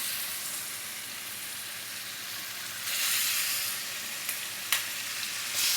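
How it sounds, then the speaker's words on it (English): Steady, loud sizzling of chicken searing in a hot pan for Jamaican brown stew chicken, a dense crackling hiss that swells brighter midway with a few sharp pops near the end. "Listen for that sear, that sizzle."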